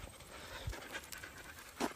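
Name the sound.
dog panting on a walk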